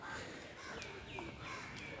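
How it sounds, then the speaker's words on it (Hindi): Crows caw repeatedly at Belur Math, several short harsh calls spread across a calm outdoor ambience, fairly faint and distant. "पक्षियों के चहचहाने की आवाज़"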